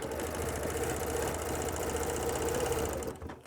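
A sewing machine stitches a straight quilting line along a ruler, giving a steady, fast, even mechanical whir with rapid needle chatter. It runs close and loud for about three seconds, then stops abruptly, with no talking.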